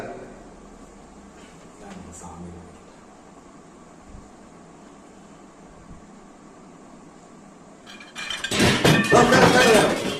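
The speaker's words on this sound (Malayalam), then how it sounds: "സൗണ്ട് കേട്ടോ? പാത്രം വേണ്ടതാണ്." Metal vessels clatter and clink loudly in a short, busy burst near the end, after a stretch of quiet room hiss.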